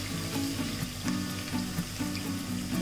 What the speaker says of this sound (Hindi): अब हम डालेंगे 5 से 6 हरी मिर्च, 1 मिनट तक इसको चलाएंगे